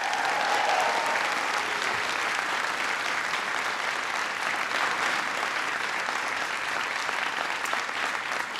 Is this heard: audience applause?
yes